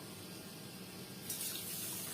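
Water poured from a pitcher or tap into a cup while preparing syrup for baklava, a steady liquid trickle that brightens and rises as the pour picks up partway through, close by with no talk.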